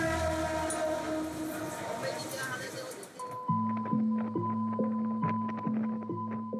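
A crowded passenger train rumbles along, then settles into a steady, rhythmic clacking of wheels over rail joints, heard close by under a voice talking.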